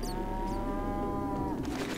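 A Minecraft cow lets out one long, drawn-out moo, clear and fairly close, tailing off near the end with a faint scuffing sound and no speech over it.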